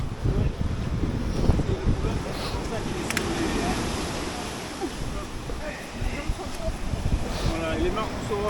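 Waves and wind buffet a boat off Saint-Tropez, a steady broadband rush of surf and microphone wind noise throughout, with people talking over it.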